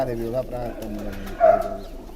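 Pigeons at a pigeon-racing loft coo softly in short, low calls, mixed with a nearby voice.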